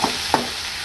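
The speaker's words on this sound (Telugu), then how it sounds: "వేసి బాగా కలుపుకోవాలి." Dry coconut powder stirred into frying cluster beans, two quick spoon knocks against the pan over a soft, steady background hiss.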